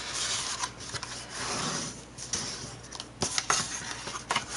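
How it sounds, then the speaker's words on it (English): Folded cardstock box sides are burnished with dry, close rubbing and scraping strokes, uneven in rhythm and fairly quiet, with no talk. "fold and burnish all of the sides."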